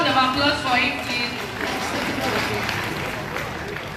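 A crowd at a university townhall meeting gives a round of applause for a professor, a broad steady patter of clapping with voices mixed in underneath.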